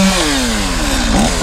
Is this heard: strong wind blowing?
no